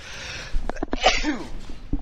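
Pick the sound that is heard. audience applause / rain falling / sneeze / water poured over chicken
sneeze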